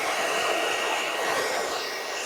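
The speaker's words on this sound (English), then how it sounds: "Just dry that hair coming back, okay?" A hair dryer blows steadily on a man's longer grown-out hair, a loud, close, continuous rushing whoosh with no break across the short stretch.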